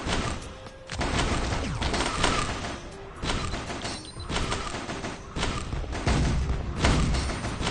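Grenade explosions in the video game Risk of Rain, a dense run of heavy booms and thuds fired off in quick succession over busy game sounds, loud and continuous for several seconds.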